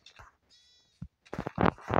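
Sheep bleating in the video game Minecraft, short wavering cries near the start and middle, followed by louder speech-like bursts toward the end; a person talks over part of it.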